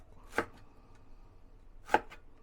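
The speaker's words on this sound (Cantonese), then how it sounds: "咁啊薑我哋切片嚇，咁啊厚薄一致啲，咁就 O K 噶啦" Knife slicing fresh ginger on a chopping board, two crisp separate cuts spaced well apart in a quiet kitchen, close and clear.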